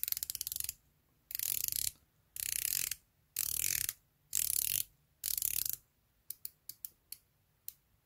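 Bezel of a Zelos Swordfish 40 dive watch being turned, six crisp ratcheting runs of rapid clicks separated by short pauses, then a few single clicks, close and alone.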